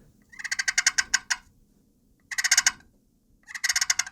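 Three bursts of rapid, rattling turkey fighting purrs imitated by a person, each a quick series of pulses, separated by short pauses.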